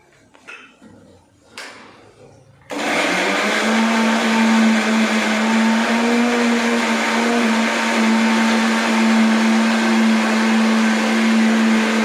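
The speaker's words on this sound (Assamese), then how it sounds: "এতিয়া মই মিক্সিত এইখিনি গ্ৰাইণ্ড কৰিলোঁ" A mixer grinder grinds paneer masala ingredients, starting with a few clinks and taps and then switching on abruptly into a loud, steady motor whine that runs unbroken to the end.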